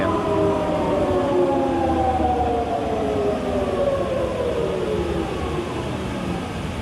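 A used You Ji VTL1600ATC C-ram vertical boring and turning machine with C axis and a four-jaw faceplate chuck runs at 120 RPM, giving a loud, steady mechanical drone with slowly gliding whining tones throughout.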